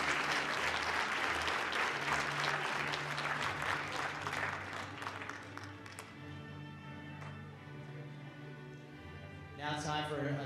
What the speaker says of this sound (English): Let's give a round of applause right there.